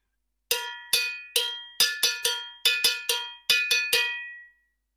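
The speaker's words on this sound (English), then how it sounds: "This is the bongo bell pattern," A cowbell is struck in a syncopated repeating salsa bongo bell pattern, about a dozen bright metallic hits with quick decays, played alone and up close.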